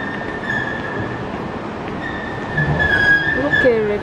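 A Rapid KL train at a station in Kuala Lumpur, with a steady rumble of rail noise and rising wheel squeal and screech toward the end, heard close amid platform ambience.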